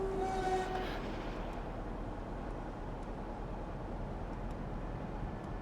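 A Class 45 diesel locomotive under way in Train Sim World 3, its engine drone and rolling rail noise steady and moderately loud from inside the cab, with a brief higher tone near the start.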